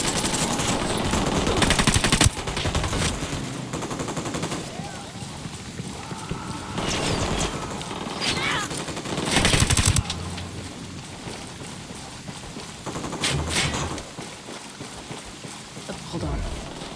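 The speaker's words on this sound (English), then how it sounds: "I'm shooting these fuckers." Gunfire in Ghost Recon Wildlands, dense bursts of automatic shots and sharp cracks over a constant busy game soundscape, with voices talking at points.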